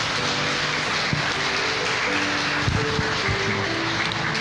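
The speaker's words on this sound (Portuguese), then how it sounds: "Você pode aplaudir Jesus?" Church congregation applauding, a dense patter of clapping spread across the room beneath a held musical chord, with a few sharper claps standing out.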